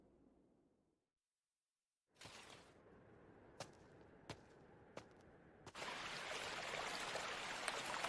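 A river flows steadily in an anime scene, starting as a quiet rush and swelling louder, with a few sharp cracks cutting through the water noise.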